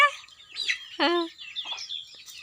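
A hen clucking close by, a few short bright calls and one louder drawn-out cluck, with soft chirps in between.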